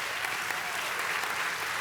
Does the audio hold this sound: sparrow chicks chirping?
no